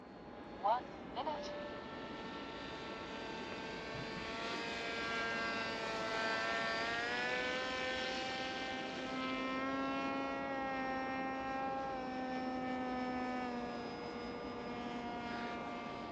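An inexpensive RC model airplane flies overhead with a sustained electric propeller whine that rises and falls in pitch as it passes. Two brief clicks come near the start.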